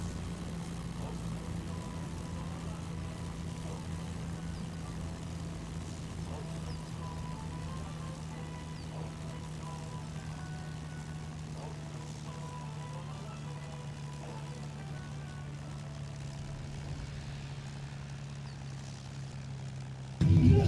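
A propeller airplane rolls down the runway, its steady engine drone holding a constant low hum for about twenty seconds, with a brief thump right at the end.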